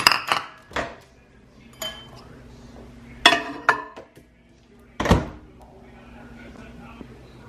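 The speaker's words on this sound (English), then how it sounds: "I'm just gonna put the butter in the microwave, and I'm just gonna melt it a little bit." In a home kitchen, dishes clink and a microwave door thunks open and shut while butter is put in to melt, a few sharp knocks and clatters spaced apart over quiet room tone.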